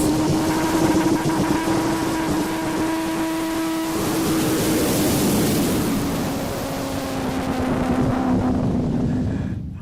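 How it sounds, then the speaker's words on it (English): Avro Vulcan bomber jet engines roaring during a taxi run at an air show, a loud sustained rushing roar with a steady whine that shifts in pitch midway, heard from nearby. "It is the Vulcan, not taking off, just doing taxi runs."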